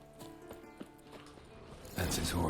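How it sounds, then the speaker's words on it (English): Slow, steady hoof clops of a walking horse in The Witcher 3: Wild Hunt, fairly soft, followed by a sudden burst of rustling noise near the end. "Oh, there's Eskel's horse."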